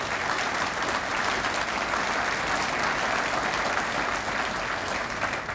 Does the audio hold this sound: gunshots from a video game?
no